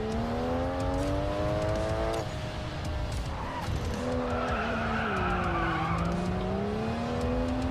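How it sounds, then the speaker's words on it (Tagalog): Car drifting in a mobile racing game, with tires squealing in long skids over a loud, sustained engine whine that shifts pitch as the car slides through turns. "Timplahin nyo lang yung pagdidrift."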